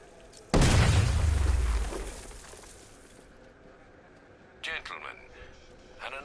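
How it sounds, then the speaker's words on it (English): A single loud, close blast as an explosive charge blows through a wall in Batman: Arkham Knight, with a sharp onset and a rumbling tail that fades over about two seconds, followed later by brief clattering debris and faint voices. "apply the explosive directly to destroy that wall"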